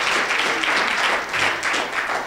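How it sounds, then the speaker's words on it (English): An audience at a school production of A Christmas Carol claps for the actors' parents: a loud, dense, continuous wash of applause that swells and dips slightly, heard without speech. "We can clap for the parents"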